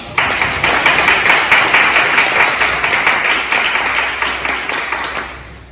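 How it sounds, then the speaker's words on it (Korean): A Korean church congregation in Darmstadt claps in welcome during Sunday worship, the applause loud and close with a slightly pulsing rhythm, sustained for several seconds before tapering at the end. "우리 옆에 있는 분들에게 환영의 박수를 드리도록 하겠습니다"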